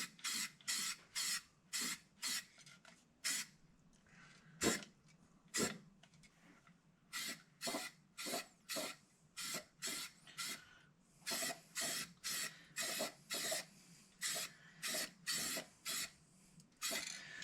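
A spray can lays protective coating onto bare metal while a VW Vanagon is prepared for an engine install. Short, quiet hissing bursts repeat in an uneven rhythm of quick pulses and brief pauses.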